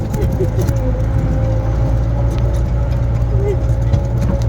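A jeep driving on a road to the Lambasingi cloud viewpoint near Vizag, its engine a loud, steady drone heard from inside the vehicle, with voices faintly underneath.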